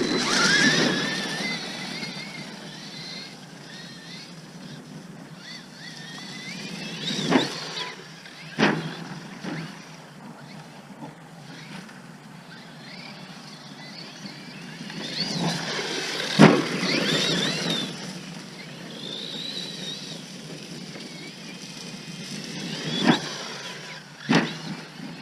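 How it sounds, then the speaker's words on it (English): A CEN Colossus XT radio-controlled monster truck driving, its electric motor whining in long rising and falling runs, with occasional loud bumps and clatters as it hits terrain. "this truck is so fun to drive"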